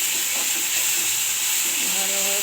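Dried red chili and two bay leaves dropped into hot oil left from frying lentil fritters, giving a steady, close, loud bright sizzle and hiss that holds for a couple of seconds.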